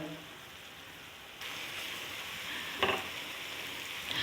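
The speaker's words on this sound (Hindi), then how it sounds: "तमाम जो खड़े मसाले मैंने डाले हैं उनको मैंने मिक्स कर लिया" Whole spices, including broken pieces and opened black cardamom, fry in hot oil with a steady soft sizzle that brightens partway through, with a brief scrape of stirring near the end.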